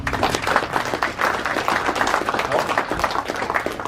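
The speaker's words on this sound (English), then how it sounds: "a big round of applause for Ray Fewings" An audience at an information night claps for several seconds, a dense steady round of applause from a room full of people, fairly near and continuous.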